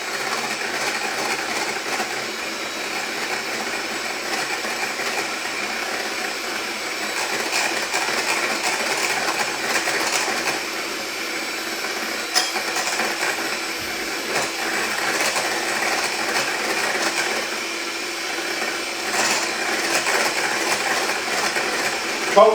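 An electric mixer whips cold cream for a chocolate and ginger tart, a steady high whirring drone that runs unbroken throughout with small fluctuations and no talking.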